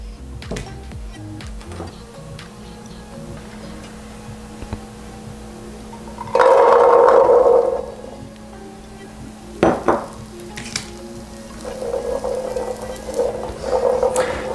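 Wet chickpeas are poured into hot frying oil in a home kitchen, bringing a sudden loud burst of sizzling and spattering that lasts over a second. Clinks of pans and utensils follow, then softer, steady frying fades in later.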